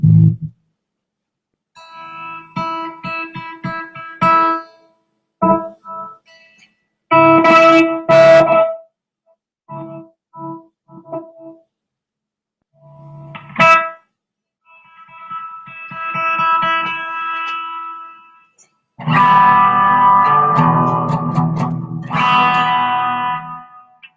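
Electric guitar played with a clean amp tone runs through a song, picking isolated notes and short phrases with pauses before swelling into fuller ringing chords.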